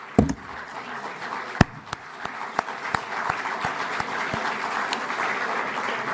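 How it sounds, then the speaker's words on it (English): Audience applause at a speech honoring paramedics, a steady wash of clapping with a few sharp, loud individual claps standing out early on, building gently and continuing to the end. "Yeah, they deserve your applause."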